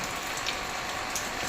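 Steady, unbroken afternoon rain hisses evenly and fairly softly, an unchanging wash of falling drops with no voices.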